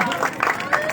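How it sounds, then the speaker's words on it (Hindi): Applause from an audience at an outdoor poetry gathering in a Mughal garden in Lahore, a steady wash of clapping running throughout with a voice talking over it. "इनके लिए भरपूर तालियां होनी चाहिए"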